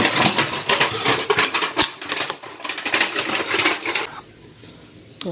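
Glutinous rice is mixed in a bowl, giving rapid clicking and scraping taps of a utensil against the bowl in an irregular, busy rhythm that thins out near the end.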